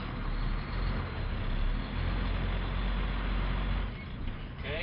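A truck fitted with an Allison automatic transmission eases away from a stop, a loud, close, steady engine rumble with broad road noise holding throughout and easing slightly near the end.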